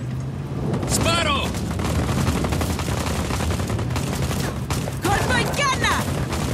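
Dense, continuous gunfire in Just Cause 4 with rapid bursts and booms, loud and close, with brief whistling streaks and shouted voices mixed into the din.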